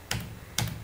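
Two crisp, close computer keyboard keystrokes about half a second apart, typing a command, in a quiet room.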